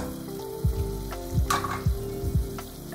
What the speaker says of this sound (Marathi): आणि हे सगळं छान तळून घेऊया